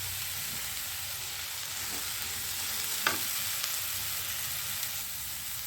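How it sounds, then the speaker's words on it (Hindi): Vegetables and tomato fry in a pan for Hyderabadi veg dum biryani, a continuous soft sizzle with a few faint stirring clicks and scrapes. "2 मिनट हो चुके हैं हमको ये सभी सब्जियों को आपस में साथ में फ्राई करते हुए।"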